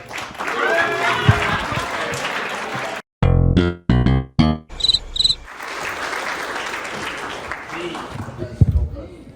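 Scattered, half-hearted clapping from a comedy club audience rises and fades under an insect-like hiss, with talk both before and after and a few loud bursts of speech in between.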